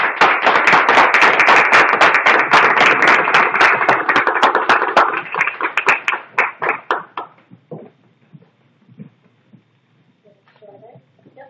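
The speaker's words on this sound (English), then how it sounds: "let's clap our best for Jennifer Wilson, please" Audience clapping for a poet at a slam poetry opening night: dense, loud applause for about six seconds that thins into scattered claps and fades, followed by quiet with faint sounds.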